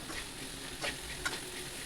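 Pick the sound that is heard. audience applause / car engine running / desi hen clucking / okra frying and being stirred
okra frying and being stirred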